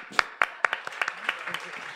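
Audience clapping at a live event, a series of sharp hand claps at an irregular pace over a steady crowd murmur, moderately loud and close.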